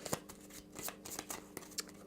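A deck of Hero Realms cards being shuffled by hand at close range, a quiet run of quick riffling bursts and soft card snaps in uneven rhythm, no talking.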